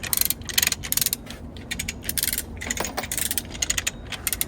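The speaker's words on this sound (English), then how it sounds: "just ratcheting out the stationary knife" A hand ratchet clicks in rapid, uneven bursts while loosening the stationary knife of a damaged wood chipper, close and clear with no talking.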